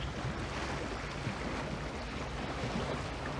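Waves from the wake of large passing launches wash and splash steadily against a shoreline rock on the Isle of Wight, a continuous rushing surf with wind noise and no talk.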